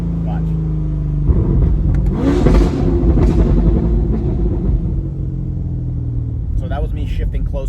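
C8 Corvette with a Bad News Racing tune accelerating hard, its engine rumble rising and falling through gear shifts near 3,000 RPM, loud and close, with a person talking over it.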